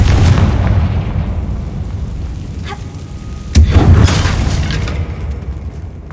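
A Confringo blasting spell in Hogwarts Legacy, a heavy rumbling boom followed by a second sharper blast midway, both loud with long low rolling tails.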